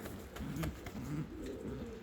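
Ornamental show pigeons cooing, with low, rolling coos repeating in soft, close phrases over faint background noise, no talking.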